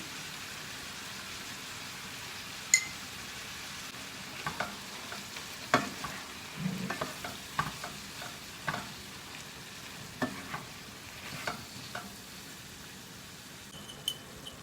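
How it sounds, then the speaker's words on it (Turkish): Karnıyarık filling with pepper gets stirred in a pan, spoon clicks and scrapes arriving in an irregular patter over a low frying hiss, soft and close with no voices. "Hepsini karıştırıyorum"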